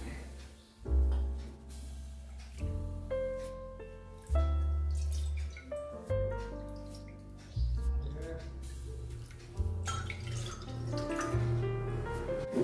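Water splashes and trickles into a pan for a semolina breakfast, in short intermittent pours with clinks and knocks of utensils between them, close and fairly quiet.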